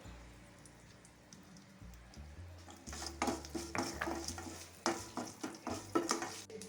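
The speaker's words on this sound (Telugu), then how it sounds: "ఇప్పుడు ఈ బెండకాయ ముక్కల్ని కళాయిలో వేసేసాం" Okra pieces in a kadai with a little oil and turmeric, sizzling and frying as they are stirred, with repeated scraping and clattering strokes of a spatula growing louder after a quieter start.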